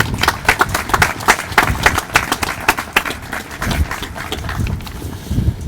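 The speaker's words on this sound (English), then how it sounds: "we all owe you an immense thank you and a round of applause." Dense applause from the audience at a fire department graduation in Huntington Beach, loud and close, with steady clapping throughout and a slight dip near the end.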